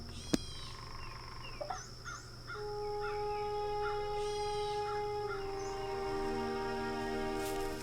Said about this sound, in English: peacocks and woodpeckers, I think. Might be flickers.